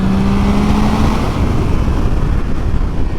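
Triumph Trident 660 motorcycle engine rolling on throttle at speed, a steady loud drone with a low tone early on, smothered by heavy wind buffeting throughout.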